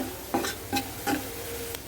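Sliced onions frying in a pan with a pinch of salt, a low steady sizzle broken by three or four quick stirring scrapes of a spatula, close and quiet, no voices.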